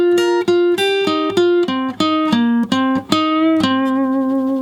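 A lead guitar lick runs down the minor pentatonic scale in roughly a dozen distinct picked notes, steady and unhurried, ending on a held low note, loud and close with no voices.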